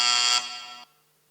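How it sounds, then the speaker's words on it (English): Quiz buzzer tested at an engineering mastermind quiz: a single loud, bright electronic buzz lasting under half a second, followed by a quieter fading tone and a faint hum. "You want to test the buzzer?"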